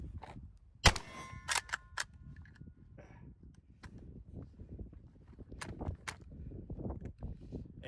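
A PW-87 lever-action shotgun fires outdoors with a sharp blast near the start, followed by metallic clanks and clacks as the action is worked and jams on extraction, then scattered handling noises and faint footsteps.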